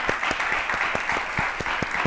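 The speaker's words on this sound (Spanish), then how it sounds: "le vuelvo a pedir al foro un fuerte aplauso para nuestro invitado" A conference audience gives a strong round of applause for a guest speaker, dense close clapping with a few sharper individual claps standing out, continuous across the clip.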